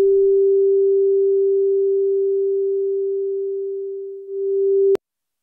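A steady FM synth tone on a Liven XFM, shaped by a slow-attack, long-decay envelope, holds a pure pitch for about five seconds, then cuts off with a faint click, alone with no talk.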